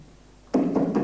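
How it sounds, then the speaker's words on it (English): Loud, hard pounding on a hotel room door, a sudden burst of heavy knocks in quick succession after a quiet moment, close and forceful. "I'm going to pound loud enough and hard enough until she opens the door"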